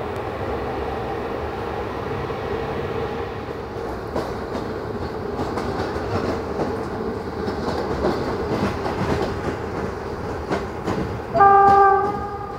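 A Romanian CFR regional train passes on the adjacent track, its wagons rumbling and clattering steadily at close range, with a short tonal horn-like whine near the end.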